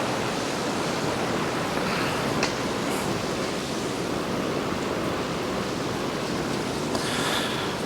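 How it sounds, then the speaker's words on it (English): Heavy rain pours down steadily outdoors beside an old Harley SX175 motorcycle being worked on, a dense, even broadband wash that stays loud and unbroken throughout. "It's pouring now."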